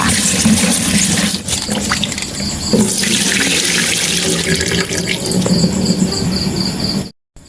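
Bitter gourds are rinsed under a running kitchen tap, a steady broadband wash of water lasting about seven seconds at close range before it stops abruptly, with a constant high insect-like chirp underneath.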